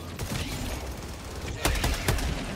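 Rapid automated turret fire in the video game Helldivers, a steady stream of shots with a few sharper cracks standing out near the end.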